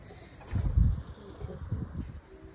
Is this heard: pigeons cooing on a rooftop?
yes